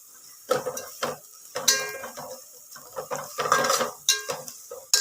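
Crisp chivda snack being stirred with red chilli powder and turmeric in a pan, giving dry scraping and rattling bursts of the flakes against metal, close and irregular, several strokes in a row with brief pauses.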